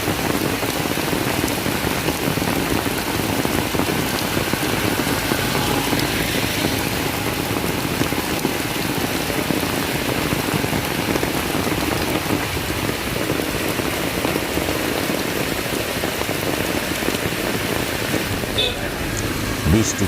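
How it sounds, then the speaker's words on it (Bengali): Heavy torrential rain falls steadily and loudly throughout during flash flooding in Bangladesh, a dense continuous wash of drops on surfaces with no pause. "মানে মুষলধারে বৃষ্টি"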